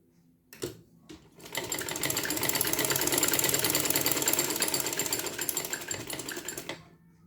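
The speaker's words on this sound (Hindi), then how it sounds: "तो जॉइन करने के लिए यहाँ पे आप स्टिचिंग लगा लें" A sewing machine stitches together small fabric pieces for a dress, its motor whirring up after a couple of light knocks and running in one steady, close, continuous burst for about five seconds before stopping.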